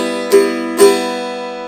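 Loog guitar strummed in alternating down and up strokes, two bright chord strikes about half a second apart, each ringing out clearly and alone.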